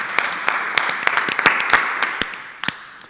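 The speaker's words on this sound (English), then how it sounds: "A round of applause." Applause from the audience and jury after a startup pitch at an entrepreneurship pitch day; steady clapping with sharp individual claps standing out throughout.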